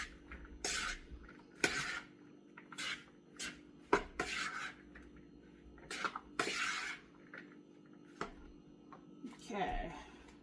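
A spoon stirring salt into chicken salad made with lunch meat: repeated scraping and clinking strokes against a bowl at an uneven rhythm, fairly quiet, with talking in between.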